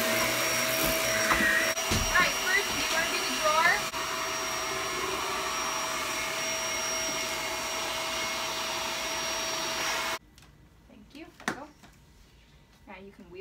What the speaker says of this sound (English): now we just need to vacuum the floor